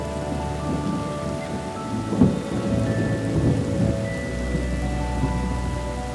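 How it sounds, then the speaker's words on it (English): Heavy tropical rain pouring over a city, a dense continuous hiss with low thunder rumbling underneath and a louder crack midway, no voices. "700 million liters of water can rain down in just a few hours."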